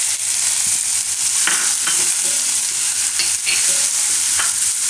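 Onion and garlic fry in hot oil spiced with chili and hing, a loud, steady sizzle broken by several scraping stirs of a spoon against the pan, with no talking.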